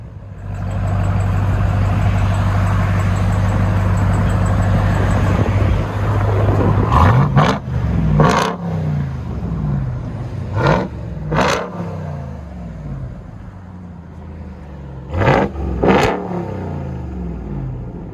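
A supercharged 6.2L Hemi V8 in a RAM TRX with a straight pipe idles with a deep rumble, then roars loudly through several sharp throttle blips that rise and fall back toward idle.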